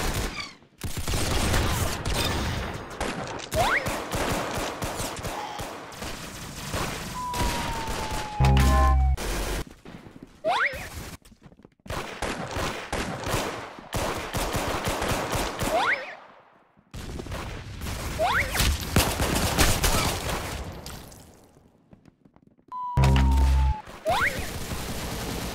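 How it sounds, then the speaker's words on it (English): Rapid gunfire from the Roblox game Arsenal, dense bursts of loud automatic shots in long stretches separated by brief pauses, with occasional sharp single reports. "Very good shooting."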